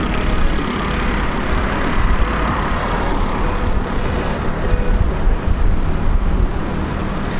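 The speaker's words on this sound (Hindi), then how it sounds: "बाइक का ट्रैफिक का बहुत ज़्यादा शोर है" Steady, dense roar of road traffic and a motorbike on a windy night street around 10:30 pm, with constant wind buffeting on the microphone and no pauses throughout.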